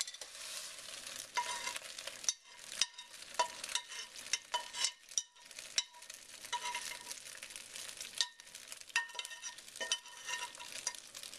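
Macaroni noodles coated in melted butter are stirred around a pan, with a continuous wet sizzle and frequent scraping, sloshing strokes of the spoon that keep an uneven, busy rhythm.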